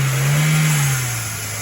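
An old four-cylinder car engine held at a steady high rev on its first start in nearly five years, loud and close, then dropping slightly as the throttle eases.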